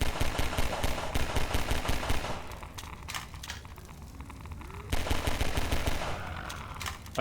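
Quick pistol shots from Half-Life 2 crack out in fast succession, a loud rattling run of fire, a short lull with scattered pops, then another burst of rapid shots.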